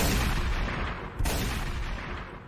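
Gunfire from a political campaign ad sounds as loud, dense, booming blasts that run almost continuously, with a brief dip near the middle.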